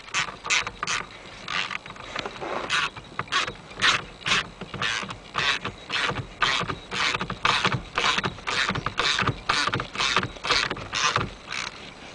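A 13/16 socket ratchet works the steering column nut on a 1989 Jeep Cherokee, clicking in steady back-and-forth bursts of rapid pawl ticks, close and fairly loud, with no talking.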